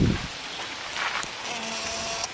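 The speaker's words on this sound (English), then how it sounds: "I'm currently being rained out right now." Steady rain pours down outdoors around a Nissan 240SX parked for fender rolling, a constant wet hiss that fills the whole stretch, with a brief low thump at the very start.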